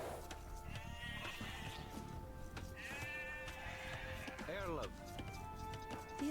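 Sheep bleat repeatedly in Age of Empires II, several distinct game-sound bleats at moderate level amid light clicking interface sounds and faint background game noise, with a voice talking over them.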